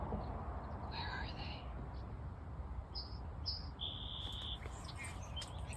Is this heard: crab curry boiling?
no